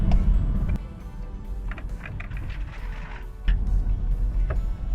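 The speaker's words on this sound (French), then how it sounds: "une fois que vous êtes bien sur une ligne droite, vous pouvez freiner assez brusquement" Heard from inside a used car on a straight road during a test drive, a low engine and road rumble drops off sharply as the car brakes hard, then swells again as it moves off.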